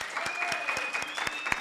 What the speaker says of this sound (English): Let's give them a hand of applause too.